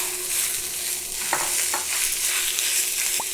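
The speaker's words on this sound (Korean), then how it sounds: "고기는 그래도 끝까지 참기름 살짝 둘러서 볶아볼게요" Meat stir-fried in sesame oil over high heat sizzles in a pan, a steady loud hiss with a few scraping stirs of a utensil, close and without talk.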